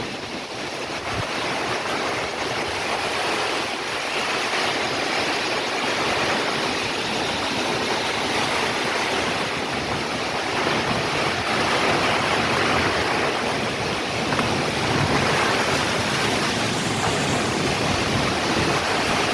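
Steady, dense rushing of heavy Kalbaishakhi (nor'wester) storm rain pouring down in Bangladesh, a continuous broadband roar with no pauses.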